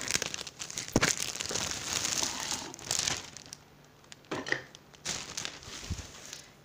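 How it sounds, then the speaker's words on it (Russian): A Midea VCC34A1 vacuum cleaner is pulled from a plastic bag: crinkling plastic rustles and crackles in bursts, with soft crumpling and handling noises close by, stopping and starting irregularly. "Сейчас я его вытаскиваю из пакета."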